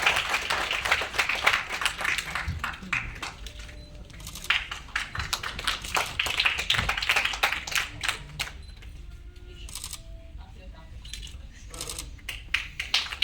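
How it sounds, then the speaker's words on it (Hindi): An audience at an All India artist association award function claps for an award-winning actress, producing a dense, continuous patter of many hands that swells and eases over several seconds. "जोरदार तालियां हो जाए सर मैम के लिए"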